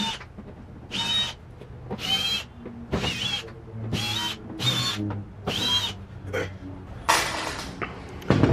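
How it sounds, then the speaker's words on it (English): A handheld power drill backs screws out of a cooler in a series of about seven short, whining bursts with brief pauses between them, close up and loud, with no talking. "Got all the screws out of the cooler."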